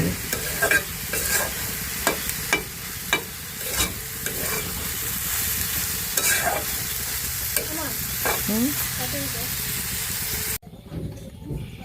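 Bitter gourd and egg fry in a pan with a steady close sizzle, broken by repeated scraping stirs of a spatula, before the sound cuts off near the end.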